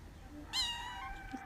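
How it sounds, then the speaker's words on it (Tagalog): A kitten gives a single clear, high meow lasting about a second, rising and then trailing off over quiet background hiss. "Sound of kitten."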